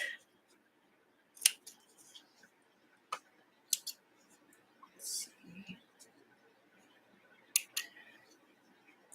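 Scissors trimming fabric quilt scraps, a few crisp snips and clicks scattered across a quiet room, close by with soft breathy voice sounds in between.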